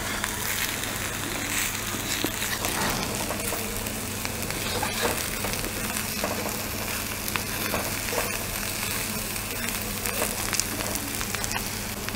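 Stuffed masala bitter gourd (karela) frying in oil in a pan, a steady close sizzle with crackles and light stirring that runs without pause and with no talking.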